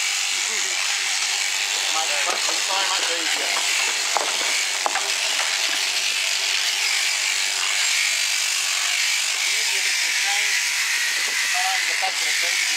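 A Perkinz CrutchMaster machine runs with a constant high-pitched mechanical whine and steady hum, joined by faint clicks and knocks, as someone talks over it throughout.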